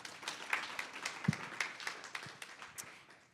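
Audience applause for a panelist at a transportation roundtable symposium: a smattering of light, uneven hand claps, fairly faint, from a modest crowd, tapering off toward the end.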